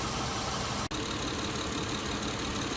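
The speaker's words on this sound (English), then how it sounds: "So you can see now the compressor clutch is engaged here." A car engine idles steadily with the AC compressor clutch engaged, a constant mid-to-low drone that holds without change except for one very brief dropout near the start.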